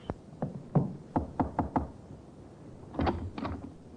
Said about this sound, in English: The sergeant knocked on the door of the second floor front.